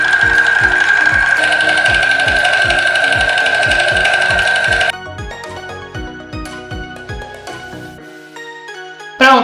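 Apron being stitched on a sewing machine, a loud close run of rapid, even needle thumps for about five seconds, then lighter intermittent mechanical clicks and taps with the motor stopped.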